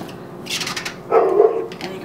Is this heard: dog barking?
yes